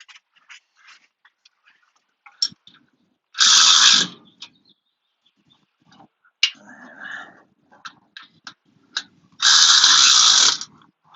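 Ratchet tightening the lower shock bolts on a 2018 Toyota 4Runner SR5 during a Fox 2.5 DSC remote-reservoir shock install, two loud bursts of close rapid clicking with scattered small taps and handling noise between.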